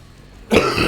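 A single sharp cough bursts out after a quiet moment, close and fairly loud, with a rough throat-clearing quality.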